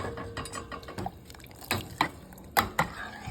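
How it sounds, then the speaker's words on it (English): Water is poured and swirled into a cooking pot of sambar with vegetables, a steady wet rush close by, broken by several sharp clinks and knocks of utensils against the pot. "I'm going to add water in it"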